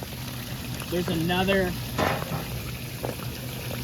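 Water gushes and splashes out steadily as it drains from a fish transportation trailer tank while a person talks over it.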